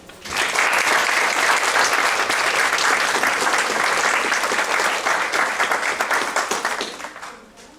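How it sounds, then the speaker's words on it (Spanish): Loud, sustained applause from an audience, swelling quickly and holding steady before tapering off at the end. "Un fuerte aplauso."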